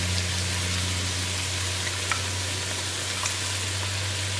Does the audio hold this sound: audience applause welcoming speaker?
no